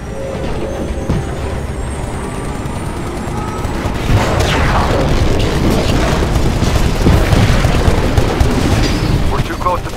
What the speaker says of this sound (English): Spinning up the cannons for another shot.